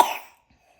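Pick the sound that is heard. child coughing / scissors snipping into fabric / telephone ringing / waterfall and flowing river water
child coughing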